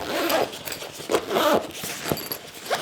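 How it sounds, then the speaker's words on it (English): Zipper on a Neatpack toiletry bag is pulled closed in several quick rasping strokes, close and crisp, with faint rustling between. "Zip it up."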